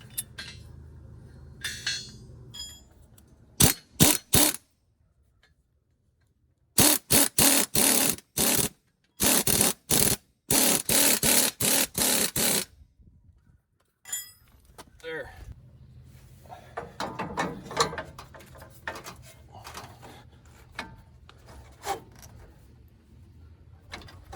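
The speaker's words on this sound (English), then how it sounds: "Put the spring compressor on." A ratchet spring compressor clicks in rapid bursts of sharp metallic ratcheting while squeezing a Jeep coil spring during a lift kit install, with quieter workshop shuffling before and after.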